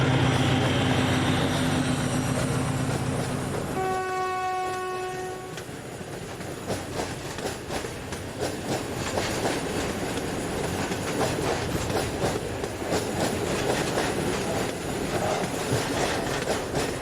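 PKP SM31 diesel locomotive No. 083 hauling an engineer's train up a grade near Tarnowskie Gory, Poland, sounds a clear horn blast, then steady wheel clatter and engine drone as the wagons roll past at close range.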